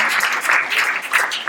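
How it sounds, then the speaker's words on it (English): A keynote audience gives a brief burst of applause, close and fairly loud, with the clapping rising and falling in uneven waves over a second and a half. "Round of applause for me."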